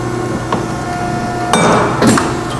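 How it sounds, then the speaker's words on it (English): A Scotchman 5014ET 50-ton, 7-station hydraulic ironworker mitering steel: a steady machine hum, then two loud, sharp metallic shearing clunks close together near the end. "We'll miter the other direction."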